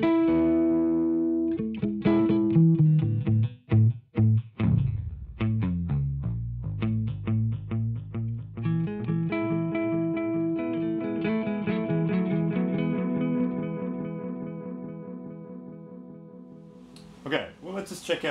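Sustained guitar chords are played through a Chase Bliss Mood pedal with its clock turned down, giving a lo-fi, bit-reduced, warbling texture. It runs continuously with shifting pitches and ends in a brief burst of noise, with no talking.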